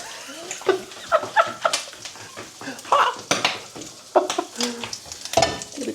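An egg frying in hot oil, spitting and popping in loud, irregular bursts, with clattering pan noise close by.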